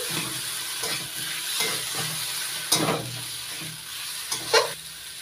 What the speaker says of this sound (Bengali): সমস্ত মশলাগুলো দিয়ে ভালো করে মিশিয়ে ভেজে নিয়েছি।